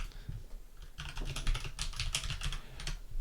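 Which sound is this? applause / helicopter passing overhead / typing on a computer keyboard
typing on a computer keyboard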